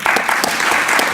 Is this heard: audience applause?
yes